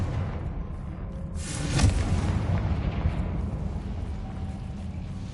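The Confringo spell explodes in the Hogwarts Legacy video game, a single loud burst that swells about two seconds in and then settles into a fading, rumbling tail.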